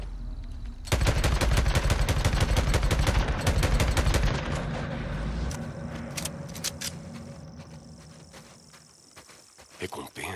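Rapid automatic gunfire in the zombie-survival video game Days Gone, a dense loud burst of shots for several seconds that thins into scattered shots and clatter, with faint game noise behind.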